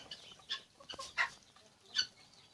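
Chickens on a farm kept around egg nests, a few short clucks spaced apart with brief rustling in between, fairly close and moderately quiet.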